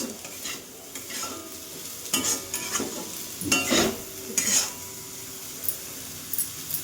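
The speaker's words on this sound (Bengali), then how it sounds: "আমার এইভাবে আলু ভাজা ভাজতে বেশ ভালোই লাগে" Sliced potatoes fry with a little turmeric in a pan, sizzling softly while a utensil stirs and scrapes through them in several distinct bursts of clatter, close and fairly loud, with no talking.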